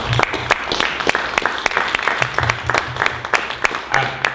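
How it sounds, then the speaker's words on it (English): Press conference audience at an MMA championship event applauding the fighters, a steady burst of close, crisp hand claps with a low hum underneath. "I want everybody just to give a quick round of applause to all the fighters"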